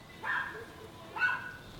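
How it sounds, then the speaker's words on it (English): A neighbor's dog barking in a backyard, heard from a home garage where a 2JZ-swapped 370Z is being prepared: two separate barks about a second apart, moderately distant, with no talk over them. "My neighbor has a dog in the backyard. I don't know if you guys can hear that right now."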